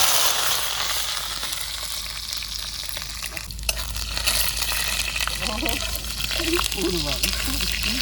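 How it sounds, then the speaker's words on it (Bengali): Mustard seed and garlic tempering sizzles steadily in hot oil in a village kitchen, a continuous frying hiss with occasional stirring scrapes close by, and faint voices in the background. "এই ফোড়নটা ভালোভাবে ভেজে নেবো"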